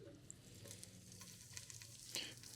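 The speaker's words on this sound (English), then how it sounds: "start sizzling" Butter and olive oil sizzle in a pan for venison stew, a steady soft crackle with a few brighter pops near the end, fairly quiet and with no talking.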